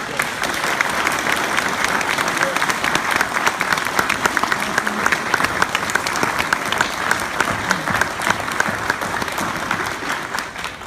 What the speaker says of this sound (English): So let's clap for these officers.